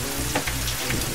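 Steady rain pattering on a surface around a porch on rural land, a dense, even hiss with scattered drop taps, heard alone with no voices.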